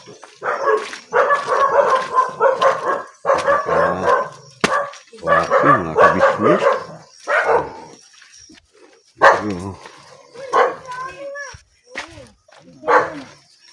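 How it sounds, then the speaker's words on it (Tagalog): A dog barks repeatedly on a night hike, loud close volleys of barks and yips with short pauses, mixed with whimpers and a few voices talking. "aso natin yan"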